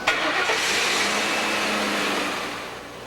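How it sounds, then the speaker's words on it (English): A car engine runs steadily at a medium pitch, loud and close, with a faint low hum, fading slightly toward the end. "Listen to your car's engine for clues."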